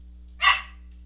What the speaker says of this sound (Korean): 우리 집 강아지가 제가 녹음할 때 책상 밑에 있는데 나가고 싶다고 해서 내보냈어요.